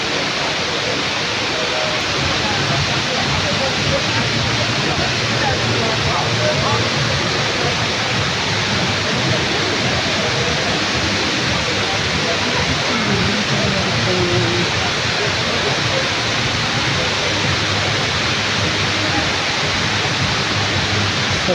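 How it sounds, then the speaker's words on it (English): Steady roar of a natural waterfall near an aquarium, a loud unbroken wash of falling water that holds evenly throughout with no distinct voices standing out. "Look at the waterfall."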